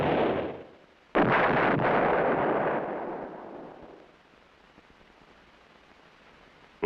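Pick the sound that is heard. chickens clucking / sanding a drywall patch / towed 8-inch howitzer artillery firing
towed 8-inch howitzer artillery firing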